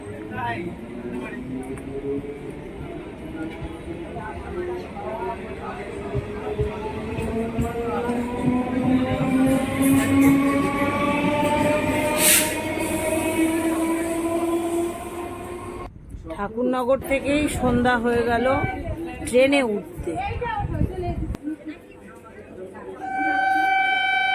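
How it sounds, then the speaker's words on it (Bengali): A train rumbles and grinds with rising mechanical tones, then clatters and squeals as it departs from a station platform, with station noise and voices around. "ওই ট্রেনটাও ছেড়ে দিচ্ছে"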